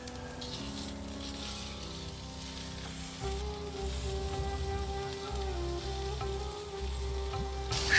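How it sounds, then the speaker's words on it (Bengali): Cut sweet potato sizzles in a pan with spices and green chilli paste, a steady close frying hiss with occasional stirring scrapes and clatter, no talking. "এবার কেটে রাখা রাঙা আলুটা দিয়ে দিচ্ছি"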